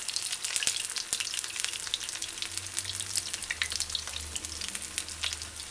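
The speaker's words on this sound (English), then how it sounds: "Start flipping your fritters." Okra codfish fritters frying in oil in a pan, a dense, loud, continuous crackling sizzle with a few sharper pops and a low hum underneath.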